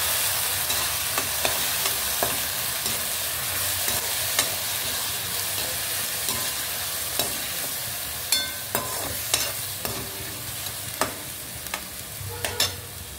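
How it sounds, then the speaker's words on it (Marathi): Onion paste fries in a pan with browned onions, a continuous close sizzle broken by irregular scraping strokes and clinks of a spatula, growing busier toward the end, with no voices. "तर ही एक कांद्याची पेस्ट आहे, हे पण यात जाईल। पूर्ण परतून घ्यायची याला।"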